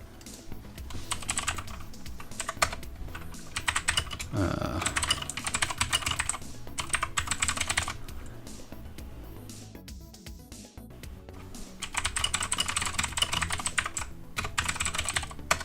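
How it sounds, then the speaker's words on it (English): Steady computer keyboard typing, close and clear, in bursts with short pauses between runs of keystrokes. "I hope my keyboard isn't too loud."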